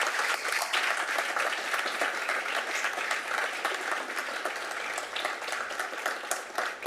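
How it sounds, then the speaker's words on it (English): A city council chamber audience gives a sustained round of applause for a club's founding members, dense even clapping from many hands heard slightly at a distance. "a round of applause for all of them"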